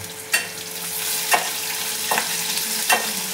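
Onion frying in a pan for a dry-fish and ambadi sukat dish, a steady sizzle with four sharp stirring scrapes spaced about a second apart, close and fairly loud.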